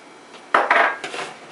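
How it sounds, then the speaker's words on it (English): A spoon scrapes and knocks around a pan, stirring two eggs into a ball of hot choux pastry dough for cream puffs, in a few quick, close strokes. "stir in those 2 eggs right into your ball"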